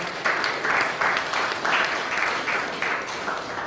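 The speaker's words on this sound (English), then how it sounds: "I think that round of applause can be better than that." An audience at a youth mentoring masterclass claps in a sustained, steady round of applause that pulses in waves, loud and close.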